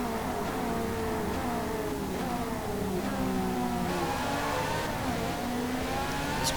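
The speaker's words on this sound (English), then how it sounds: "The car has obviously been improved, so quicker, way higher revving with those race cams that we put on it." Upgraded race car with race cams in the Forza Motorsport 4 video game, its engine revving high and climbing through gears in repeated sweeping pulls. The tone stays loud and steady with no voices.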